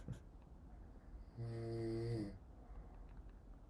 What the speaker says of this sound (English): He's snoring too much.